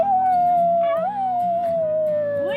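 A child imitates a dog howling with one long, sustained wavering howl that rises briefly and then slowly falls, close and clear with no other sounds behind it.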